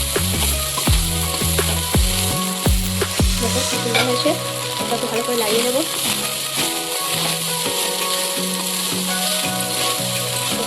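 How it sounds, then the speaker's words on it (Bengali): Leftover cooked rice fries with spices in a hot pan, hissing steadily while a spatula scrapes in quick strokes at first and then more slowly, up close, with someone speaking over it. "এখন দিয়ে দিচ্ছি এটার মধ্যে আমরা ভাত কী করবো, ভাতটা ভাজা হবে"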